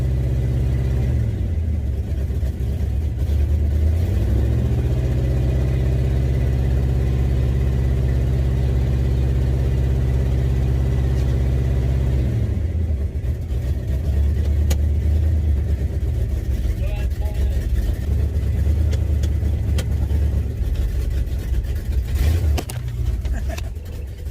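A car engine idles and revs unevenly, its tone surging and dropping as it runs rough, with a voice talking faintly in the background.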